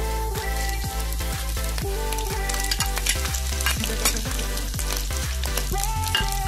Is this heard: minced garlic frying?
yes